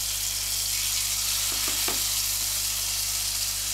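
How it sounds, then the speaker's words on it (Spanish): Diced potatoes and tomato fry with garlic and chili peppers in a pan for patatas bravas, giving a steady, dense sizzle at close range with a couple of faint stirring knocks midway. "Salpimentamos al gusto y doramos."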